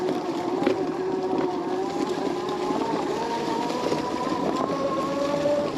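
Mokwheel Obsidian ST e-bike ridden at full throttle over tree roots: a steady motor whine with continuous rumble and wind buffeting, alone and close.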